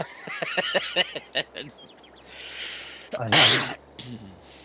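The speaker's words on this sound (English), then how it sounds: "Go on, sneeze it up." A loud, sharp sneeze bursts out near the three-second mark, following stretches of rapid, playful vocalizing; a softer voice trails off afterward.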